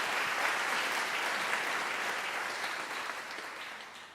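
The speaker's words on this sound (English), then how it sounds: "Ladies and gentlemen, I think it is proper that we give Professor Ngulube another round of applause." Sustained applause from a graduation ceremony audience honouring Professor Ngulube at a Unisa autumn congregation, a dense steady wash of many hands clapping that tapers slightly toward the end.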